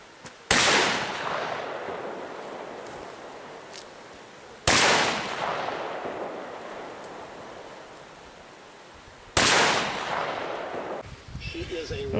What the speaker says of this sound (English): There he is, loading up the 44 Magnum